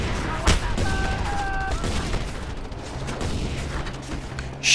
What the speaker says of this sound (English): Yep, there's those rockets I was talking about.